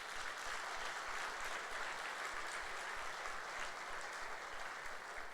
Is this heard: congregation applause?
yes